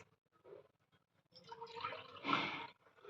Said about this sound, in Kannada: ನೀರು ಹಾಕ್ಕೊಳ್ತಿದ್ದೀವಿ